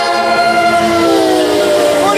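A New Jersey Transit locomotive horn sounds a loud, continuous multi-tone blast, close and steady, with its pitch sliding slightly near the end as the train passes.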